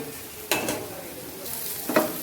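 Fish roe fries with turmeric in a pan, a constant soft sizzle broken by two brief, close scraping stirs of a utensil.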